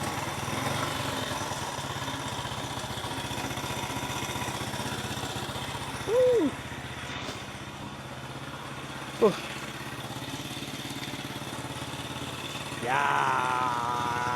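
A newly revived Honda EX5 motorcycle, smoking after being started, idles evenly and close by for the whole stretch, with a short voice and a few brief chirps breaking over the steady engine drone.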